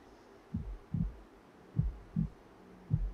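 A heartbeat sound effect from a horror video plays alone as five low, thudding beats in slightly uneven pairs, loud and close over a faint background hum.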